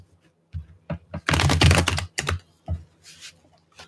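Tarot cards are shuffled up close in a flurry of quick papery riffles and taps, with one dense, loud burst in the middle and scattered light clicks around it.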